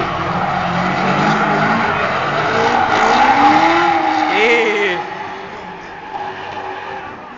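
A car drifts with tires squealing loudly, the engine revving and rising in pitch as the squeal swells mid-pass, then easing back to a lower rumble.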